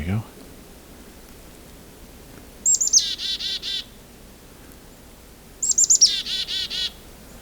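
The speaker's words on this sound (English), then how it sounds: "I'm starting to hear a chickadee in the distance." Two bursts of high, buzzy chickadee calls, each a quick series of notes, sounding moderately distant over a low background hiss.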